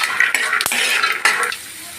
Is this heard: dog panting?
no